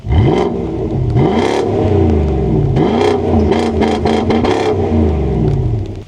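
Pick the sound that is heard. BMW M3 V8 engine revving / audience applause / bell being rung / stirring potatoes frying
BMW M3 V8 engine revving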